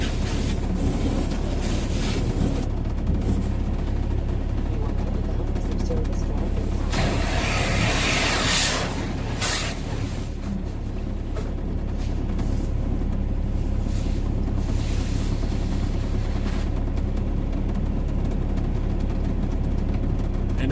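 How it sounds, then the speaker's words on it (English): Truck wash crew rinsing soap off a truck with sprayed water, a steady loud rushing hiss in rain and high wind, with a stronger burst of spray partway through and wind buffeting the microphone throughout. "They're just rinsing the soap off."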